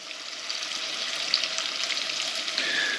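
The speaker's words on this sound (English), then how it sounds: "Make sure you get that sizzle going." Steady hot sizzling of thin mahi-mahi fillets frying in oil, a continuous crackly hiss with a few small pops, close up and fairly loud.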